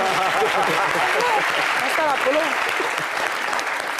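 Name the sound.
applause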